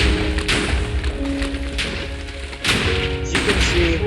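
Blocks of TNT go off in Minecraft, dropped from a modded TNT firework. Repeated heavy thuds and crashes burst out at irregular intervals over a loud, dense rumble of game sound.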